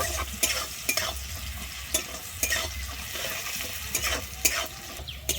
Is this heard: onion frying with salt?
yes